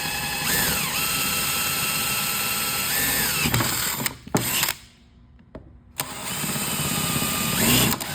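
A power drill whines loudly as it bores holes through UHMW plastic and aluminum, long steady runs broken by a short pause and brief pulses before it spins up again, close to the listener.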